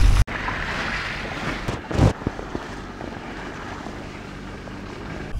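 Steady seaside surf and wind roar fill the air at a beach near Lezhe, Albania, with a broad continuous wash of waves, a brief louder gust around midway, and no talking.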